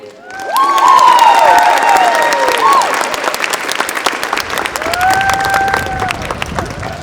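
An audience applauds and cheers for the Rahway High School Madrigals after they sing the national anthem at a ceremony, with loud, sustained clapping, whoops and a few shouts standing out over it.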